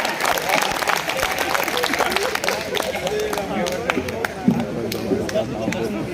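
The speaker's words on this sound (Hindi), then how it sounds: "एक बार जोरदार तालियां" An audience at a Hindi comic poetry recital claps after a humorous verse, a moderate burst of applause with crowd murmur and a few voices mingling in the room.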